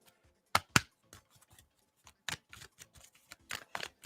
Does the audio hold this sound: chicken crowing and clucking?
no